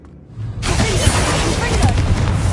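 A Confringo spell blast in Hogwarts Legacy, a sudden shattering burst that breaks into a loud, crackling rumble and holds for about two seconds, with a voice over it.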